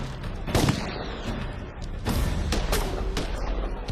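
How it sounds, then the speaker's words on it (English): Pistol gunfire rings out in a reenactment of the Northfield bank raid, with several sharp, loud shots spaced irregularly over a rumbling background. "Jesse immediately began firing his pistol, trying to provide cover for his compatriots inside the bank."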